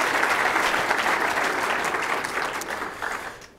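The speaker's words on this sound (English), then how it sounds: "can we just have a final round of applause for Markwell" Applause from an audience at the Australian Medical Association national conference, a dense sustained round of clapping that holds steady, then tapers off toward the end.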